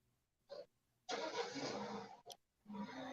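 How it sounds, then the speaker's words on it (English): A car engine starts up outdoors at a distance, with a short cranking burst followed by a sustained, fairly steady rumble that briefly cuts out and then resumes, faint and with no talking over it. "Oh, I thought that was a car starting up."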